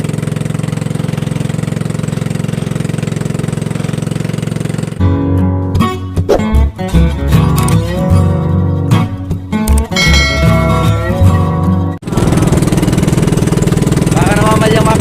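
A motorcycle engine runs steadily throughout, loud and close, its idling drone broken mid-clip by a busier stretch of revving and mechanical clatter before settling again.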